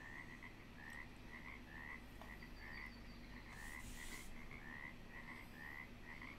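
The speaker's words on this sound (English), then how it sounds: "Lots of frogs." Frogs croak over and over in a steady, evenly paced chorus inside the Russian Fishing 4 game, set against a constant low outdoor ambience with a brief hiss partway through.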